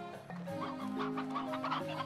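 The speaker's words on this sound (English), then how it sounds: "This is a lot of stony hens." Stony hens in the Slime Rancher video game, clucking in a busy overlapping chorus of short tonal calls, close and fairly loud with no voices.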